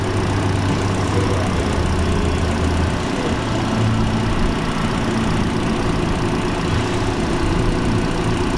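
A car engine idles steadily during an alternator ripple test under a light simulated load, a continuous low rumble running at constant level throughout with no talk.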